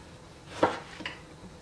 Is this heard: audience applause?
no